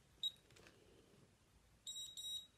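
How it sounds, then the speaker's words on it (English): COLOP e-mark handheld printing device beeping as it receives an imprint: one short high beep near the start, then a quick pair of clear electronic beeps later, in an otherwise quiet room. "That beep beep always indicates that the eMark has received the imprint."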